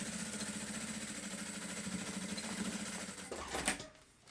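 A sewing machine running continuously with a rapid, even mechanical whir while stitching the edge of a thermal lunch bag, close and steady, then slowing and stopping with a final clunk near the end.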